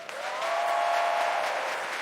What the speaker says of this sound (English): The applause was deafening.